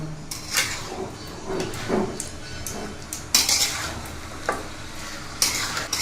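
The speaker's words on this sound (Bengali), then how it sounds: "এখন চুলাটা জ্বালানো অবস্থায় আমি মশলার সঙ্গে মাংসগুলো খুব ভালোভাবে কষাতে থাকব।" Beef cooked down with spices in a pot, a spoon scraping and knocking against the metal in irregular strokes over a low sizzle, close and fairly quiet.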